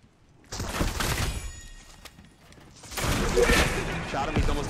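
Video game gunfire from a shooter, with bursts of shots in two clusters, the second louder and denser, mixed in with players talking.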